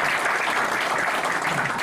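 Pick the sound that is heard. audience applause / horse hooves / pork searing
audience applause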